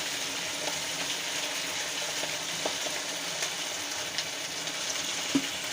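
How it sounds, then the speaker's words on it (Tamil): Idli pieces frying in oil in a pan for chilli idli, a continuous even sizzle and crackle with a few faint pops, steady and close, no voices. "எடுத்து தள்ளி தள்ளி போடுங்க ஒட்டிடாமல் போடுங்க அப்போ தான் நல்லா ஃப்ரை ஆகிடும்"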